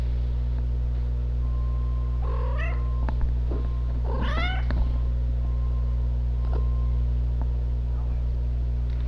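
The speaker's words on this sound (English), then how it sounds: "Do you hear a cat?" A cat meows a few times indoors, two rising wavering cries close to the microphone over a steady electrical hum, with a person talking nearby.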